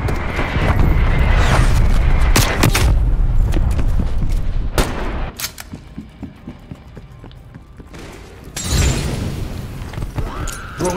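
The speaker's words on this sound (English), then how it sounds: "Incoming artillery." In a Call of Duty Cold War match, incoming artillery shells slam down in loud, booming explosions, then debris crackles and sharp bangs ring out before another heavy blast near the end.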